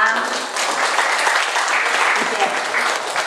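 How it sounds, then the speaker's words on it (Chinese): Sustained applause from an audience at a medical lecture event, welcoming a senior physician to the stage; steady, dense clapping fills the whole stretch with some murmuring voices underneath. "马邦杰医师博士，我们用最热烈的掌声欢迎他，好吗？"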